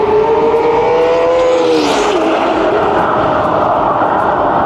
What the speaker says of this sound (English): Here comes the Dodici cilindri again.